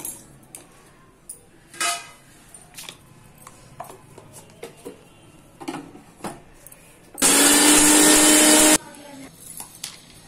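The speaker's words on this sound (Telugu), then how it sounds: "అవన్నీ కొంచెం మిక్సీలో పట్టుకొని పౌడర్ చేసుకోవాలి" A mixer grinder whirs loudly for about a second and a half, grinding spices to powder, preceded and followed by scattered kitchen clinks and clatter.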